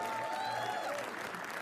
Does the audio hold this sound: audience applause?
yes